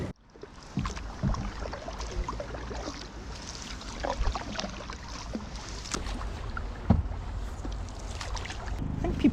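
Quiet splashes and drips from canoe paddle strokes on water, irregular and close, with light wind buffeting the microphone, on the Great Glen Canoe Trail in Scotland.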